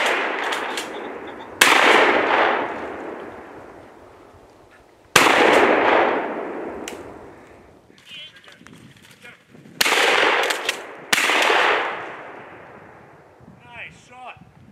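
Shotgun blasts ring out while pheasant hunting outdoors, four loud booming shots spaced a few seconds apart, each trailing off in a long rolling echo, with brief voices in between.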